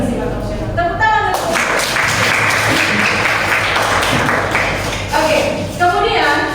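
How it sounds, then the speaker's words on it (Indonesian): Students in a classroom clap together in a steady, dense burst of several seconds, close and loud, with a teacher's voice audible before and after the applause. "Tepuk tangan."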